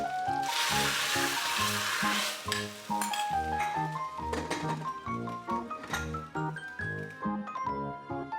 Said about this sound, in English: I use coconut oil, fry in some shallots, garlic and ginger, all chopped